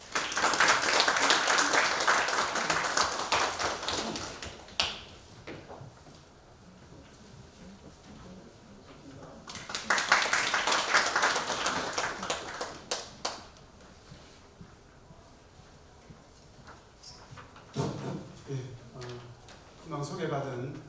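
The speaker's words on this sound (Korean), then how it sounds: "권상우 교수님을 큰 박수로 맞아주십시오." Audience applause welcoming a university professor to a lecture hall, two bursts of clapping with a lull between them, fading to scattered claps and some light murmuring.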